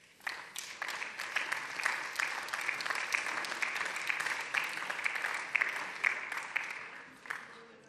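Sustained applause fills a German parliamentary plenary session, a dense, steady clapping from many hands that runs for several seconds at an even level before tapering off, with no speech over it.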